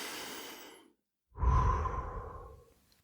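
A slow breath in through the nose, a short pause, then a longer audible exhale out through the mouth, close and alone, as in a relaxation breathing exercise.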